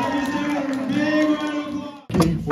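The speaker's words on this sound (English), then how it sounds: "How about a big round of applause?" An audience applauds and cheers at a school district's Support Employee of the Year finalists ceremony: dense, steady clapping with a few whoops, breaking off briefly near the end before surging back loud.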